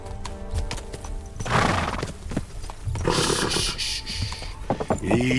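A horse in Kingdom Come: Deliverance II clops its hooves and lets out a whinny, with clattering steps and rustling movement close by and no talk over it.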